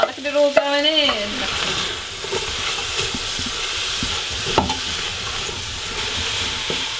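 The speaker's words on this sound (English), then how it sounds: "I've got 2 tablespoons of coconut oil in here, which I've heated. I'm going to add the veg and stir." Vegetables tipped into two tablespoons of hot coconut oil erupt in a loud hiss, then keep frying with a steady crackle as they are stirred; a short clattering burst opens the sound.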